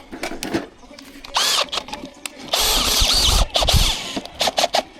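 A power drill whirs in several short bursts and one longer run, with a high whine, while someone talks between the bursts, used while replacing the blade on a wire stripping machine.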